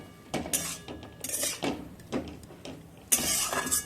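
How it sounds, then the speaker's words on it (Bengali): A spatula or spoon stirring Malabar spinach with salt and turmeric in a pan, giving irregular scraping clatters and metallic clinks in short bursts with quieter gaps between them. "দিয়ে আরও খানিকক্ষণ নাড়াচাড়া করে নিচ্ছি"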